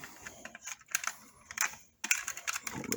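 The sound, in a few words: click of a wire connector plugged into a Jeep backup camera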